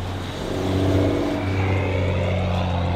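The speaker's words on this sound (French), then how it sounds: "il y a une Supra qui arrive juste derrière la caméra par là-bas" Toyota Supra MK5 fitted with a titanium exhaust driving past, a steady droning engine and exhaust note that swells slightly and holds, moderately loud with no talk.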